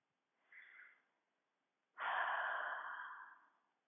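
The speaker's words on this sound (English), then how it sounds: "take a deep breath" A deep breath, heard as a short, soft inhale followed by a longer, louder, breathy exhale that fades out, close and alone in a quiet room.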